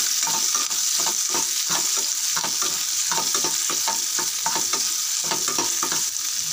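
Chopped onions fry in a pan for drumstick leaf palya, a steady close sizzle broken by repeated rhythmic spatula scrapes as they are stirred, with no talking.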